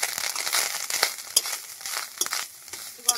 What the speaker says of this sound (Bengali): এবার আমি কড়াইতে আরেকটু তেল দিয়ে নারকেল ভেজে নেব।